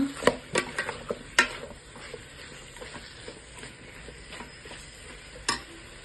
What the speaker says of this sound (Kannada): ಈಗ ಹೆಚ್ಚಿಟ್ಕೊಂಡಿರೋ ಟೊಮೆಟೊ ಹಣ್ಣು ಹಾಕ್ಕೊಳ್ತೀನಿ. ಇದನ್ನು ಚೆನ್ನಾಗಿ ಮಿಕ್ಸ್ ಮಾಡ್ಕೊಳ್ಳೋಣ.